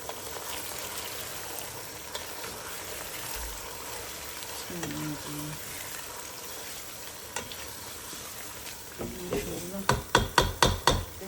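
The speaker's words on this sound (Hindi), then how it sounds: "चलिए मैं चिकन डालने लगी हूँ।" Chicken goes into a frying pan: a steady, moderate sizzle runs throughout, with scattered utensil knocks and a quick burst of clattering strikes at the end.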